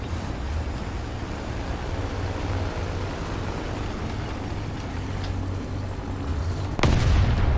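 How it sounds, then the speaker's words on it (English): A tank shell explodes in War Thunder, a sudden loud boom near the end that follows a steady rumble of engine and battle noise. "He hit the rock in front of me, and the explosion still killed me."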